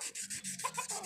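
Old, worn sandpaper rubs rapidly back and forth, close by, in a steady rhythmic scrubbing with no talking.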